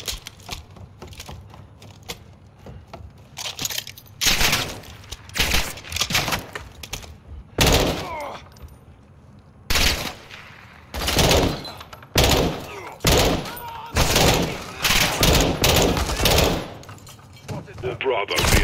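Close-range SMG gunfire in Call of Duty Modern Warfare II, heard as loud repeated bursts with short gaps between them, and someone talking between the bursts.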